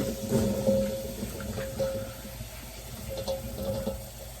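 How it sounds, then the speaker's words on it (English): Water runs and sloshes in a sink as freshly dug new potatoes are rinsed, a steady close splashing with light clinks, no talking. "I'm putting them back into some water."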